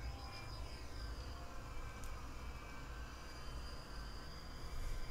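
Vickers Vanguard airliner engines in the FS2004 flight simulator: a continuous, even turboprop drone with a steady high whine over broad low rumble, no voices.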